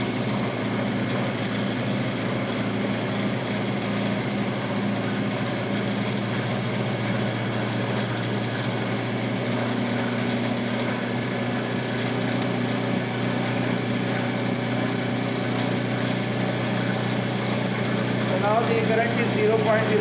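A DC shunt motor running at increased speed, giving a steady, even mechanical hum and whine that holds at a constant level throughout with no talk over it.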